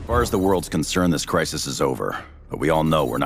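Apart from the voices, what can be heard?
None of the usual background noises is heard.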